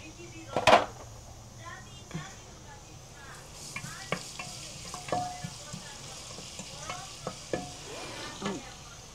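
Garlic frying in mixed cooking oil while making local chicken soup, a soft sizzle under repeated stirring and scraping clicks from a spoon in the pan, with a louder clank near the start and someone talking in Nepali.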